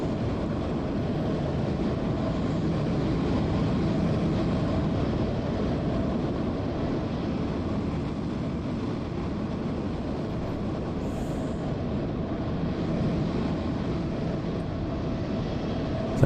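A Cathay Pacific A321neo departing in Microsoft Flight Simulator 2020 at Hong Kong airport gives a steady, loud engine roar and broad rushing noise that holds evenly throughout, with no voices.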